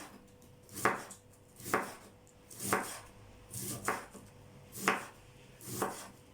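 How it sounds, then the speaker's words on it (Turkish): A knife chops vegetables thinly on a board for a mixed garnish pickle. About seven crisp strokes land at a slow, even pace, close and clear, with no talking. "Aynı şekilde ince ince bunu da kıyalım."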